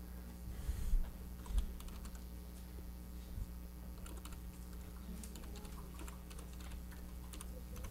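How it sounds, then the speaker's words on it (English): Fingers type on a computer keyboard while logging into a site during a physics lecture, a quiet, steady patter of key clicks over a low electrical hum, with a couple of louder thumps early on and no talking. "Oh, I think I typed that wrong."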